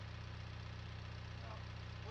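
Combustion Euro 6 vehicle engine idling in Farming Simulator 19, a low steady rumble with even hum, quiet and continuous, with faint speech traces over it.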